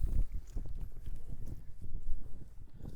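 Horse hooves clip-clopping in a steady walking rhythm as the horse is led around an arena pen, close and moderately loud with low thuds throughout.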